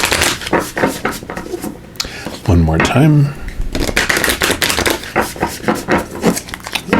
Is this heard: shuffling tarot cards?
yes